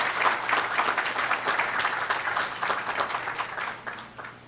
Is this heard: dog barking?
no